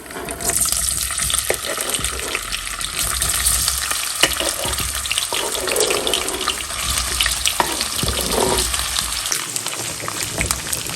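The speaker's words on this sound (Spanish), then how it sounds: "las vamos a poner en un sartén con aceite" Sliced sausages fry in oil in a pan, giving a loud, constant crackling sizzle with occasional stirring scrapes, heard close and without talk.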